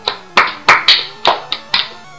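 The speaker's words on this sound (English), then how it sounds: "Slow clap." Slow, deliberate hand claps ring out one by one at an even, unhurried pace, about eight sharp claps close and loud with brief gaps between them.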